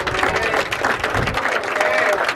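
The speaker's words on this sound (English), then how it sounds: "when people they clap, you keep on talking" An audience applauds during a speech at an Urban Surfer Hippo launch, a dense steady wash of clapping at close range, with a voice speaking over it.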